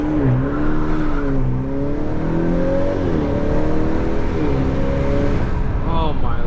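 A Honda Accord 2.0T engine revs repeatedly, its pitch climbing and falling in several loud sweeps close to the listener, with a sharper rise at the end; a voice can be heard faintly under the engine.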